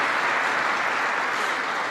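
An audience of US military personnel at Fort Drum, New York applauds during a vice-presidential speech, a steady, even wash of many hands clapping throughout.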